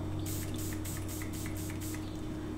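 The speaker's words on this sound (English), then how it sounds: "you can also just take alcohol spray and spray it onto a paper towel" An alcohol spray bottle fires a rapid series of about seven short, crisp spritzes onto a paper towel for cleaning makeup brushes, set against a steady background hum.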